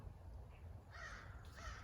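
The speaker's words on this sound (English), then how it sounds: "I hear a crow cawing." A crow caws outdoors, two faint, distant harsh calls over a quiet low rumble of background noise.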